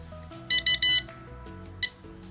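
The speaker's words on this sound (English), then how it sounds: "so you hear it beeping." Joystick controller of a D9X electric wheelchair sounding a pairing signal: three quick high electronic beeps in a row, then a single shorter beep a moment later, close and clear over a quiet background.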